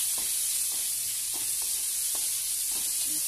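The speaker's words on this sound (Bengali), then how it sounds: "পেঁয়াজটা যতক্ষণ লাল লাল করে ভাজা না হবে ততক্ষণ ধরে আমি পেঁয়াজটাকে ভাজতে থাকবো।" A pan of sliced whole onions frying until reddish, a continuous bright sizzle with soft periodic stirring taps beneath it.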